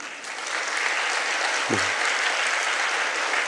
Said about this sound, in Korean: 진짜 박수 칠 일입니다